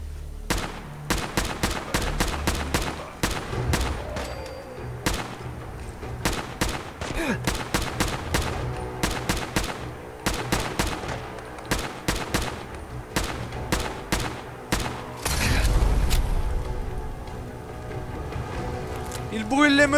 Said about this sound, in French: le fusil d'assaut, Génial, génial comme arme